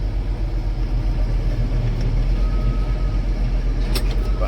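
A John Deere 6480 tractor runs steadily with its PTO engaged, a loud, close, continuous engine rumble and drone with no talk over it.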